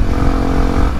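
A stock-engine Yamaha WR155R motorcycle roars steadily and loudly during a top-speed run, its engine and wind noise filling the sound without pause and no voices heard.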